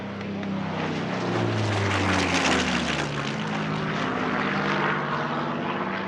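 A Supermarine Spitfire propeller fighter with its elliptical wing roars past at an airshow, a loud, sustained piston-engine drone that swells and shifts in pitch as it passes close overhead.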